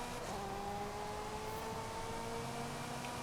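A race car engine in Forza Horizon 5 holds steady at full throttle through a corner, a continuous high droning whine with rising harmonics, loud and unbroken with no talk.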